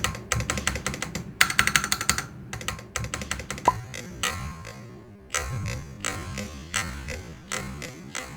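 Typing on a Keychron Q1 aluminium mechanical keyboard, loud close bursts of rapid key clacks in uneven runs with brief pauses between them, no talking.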